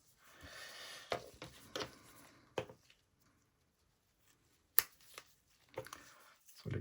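Tape-sealed delivery package being opened with a series of sharp rustles, taps and tearing bursts separated by quiet gaps, close and fairly faint.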